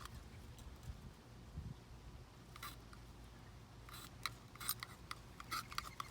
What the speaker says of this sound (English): While I'm scraping this